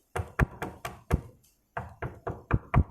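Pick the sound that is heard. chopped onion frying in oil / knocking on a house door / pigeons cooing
knocking on a house door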